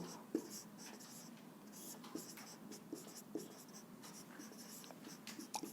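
Pen writing on paper during a class 8 maths lesson, a quiet run of short scratching strokes and taps repeating irregularly for several seconds, close and soft with no voice over it.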